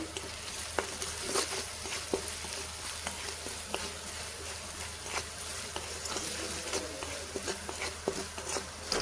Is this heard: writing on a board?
no